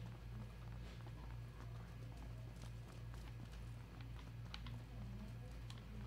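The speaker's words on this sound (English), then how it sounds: "I hear a lot of footsteps." Rapid, steady run of footsteps in the Fortnite video game, a quiet, even clip-clopping rhythm that carries on without a break against low background game sound.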